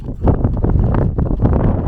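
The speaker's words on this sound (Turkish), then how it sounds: "Aşırı rüzgar var arkadaşlar." Heavy gusts buffet the microphone in a dense, low roar, pulsing and thumping throughout a short burst.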